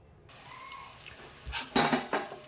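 Sliced onions frying in a pan for a home-cooked dinner curry give a quiet background sizzle, broken by a few sharp metallic clinks and scrapes of a spoon against the pan near the end.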